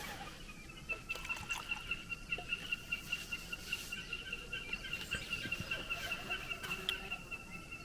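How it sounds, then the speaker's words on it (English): Birds sing and chirp steadily through an evening campsite in a tree, with a thin, persistent trill running throughout, moderately distant under a bed of insect-like buzzing and faint rhythmic pulses. "while the birds are serenading me"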